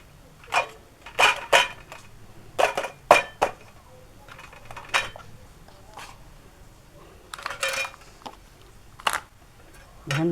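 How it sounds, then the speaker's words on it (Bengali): A knife stirring a chilled dragon fruit dessert in its container, producing irregular light metallic clinks and taps against the dish, close up and fairly quiet, with short pauses between strokes. "এখানে একটু এই চাকুটা দিয়ে একটু নড়ে চড়ে তারপরে ঢেলে দেখাচ্ছি।"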